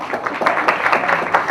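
An audience claps together in a short, dense burst of hand claps on cue, close and lively, with no voices over it.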